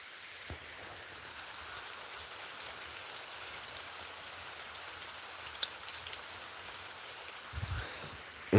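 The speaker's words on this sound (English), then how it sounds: "It's been raining since about" Early morning rain falls steadily outside, an even, soft hiss of drops with a few louder taps close by, heard alone without talking.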